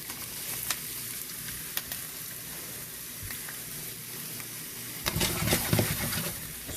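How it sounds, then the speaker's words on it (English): Chopped onions sizzle steadily in hot oil in a pan for a lasagna, a continuous close frying hiss that swells louder near the end as more onions hit the pan. "Then we're just gonna throw the onions in."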